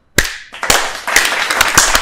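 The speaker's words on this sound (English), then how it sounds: "And we need to clap. Oof. Slow clap." Sharp individual claps in a sparse, slow rhythm start after a brief silence, then quicken into a faster patter of several claps from a small group nearby.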